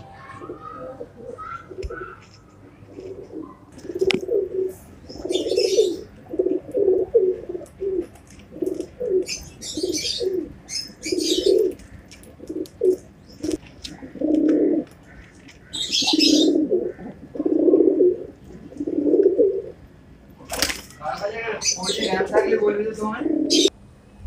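Repeated low, soft cooing from racing pigeons close by in a loft, coming in a steady series of warbling calls, with a few brief higher chirps and occasional voices.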